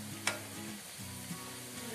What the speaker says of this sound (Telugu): ఇలా తిప్పేసుకోవాలండి, తిప్పి కాల్చుకోవాలి.